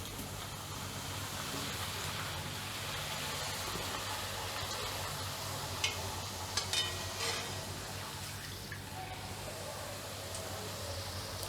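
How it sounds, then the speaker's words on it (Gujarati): Khakhra flatbreads fry in hot oil with a soft, continuous sizzle and bubbling, joined by a few brief crackles midway, heard faintly from close by. "હવે આપણે એક એક કરીને ખાખરા તળી લેશું આ રીતે તેલમાં ધીરે ધીરે જ મૂકવાનું"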